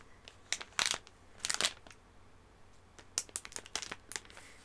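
Scissors cutting across the top of a Japanese candy packet: quiet, close crinkling and crisp snipping of plastic wrapper in two clusters of short crackly bursts separated by a brief lull, with no voice.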